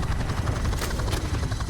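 Helicopter in Call of Duty 4 gameplay, a loud continuous rotor roar with a dense low rumble and steady chopping texture filling the whole moment.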